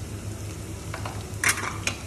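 Spices and ginger frying in ghee for a tadka for hariyali dal, a steady close sizzle with occasional stirring clinks from a utensil in the pan, no voices.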